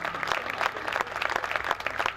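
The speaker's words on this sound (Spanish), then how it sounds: "fuerte el aplauso para ellos" A festival audience applauds the artisans with sustained, fairly distant crowd clapping that holds steady for the whole moment.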